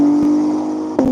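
An Acura NSX race car pulls off the line at a track event, its engine note holding a steady drone before a sharp shift and renewed surge near the end, close and loud.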